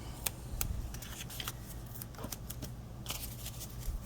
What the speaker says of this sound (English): Let me cut that piece off.